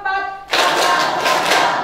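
A group claps hands together in a counted rhythm, a burst of clapping starting about halfway through after a sung or spoken tone, fairly close and continuing to the end.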